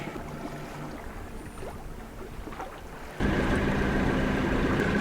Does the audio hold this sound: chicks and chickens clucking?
no